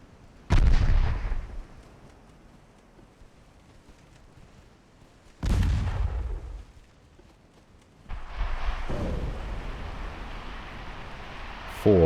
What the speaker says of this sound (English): 7 torpedo hits. And we get a flash fire.